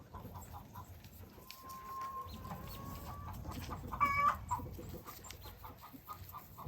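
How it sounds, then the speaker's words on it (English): Chickens cluck on a farm, with soft scattered clucks over a steady outdoor background, along with a brief higher call near the middle. "The chickens and the goats are ready to get fed."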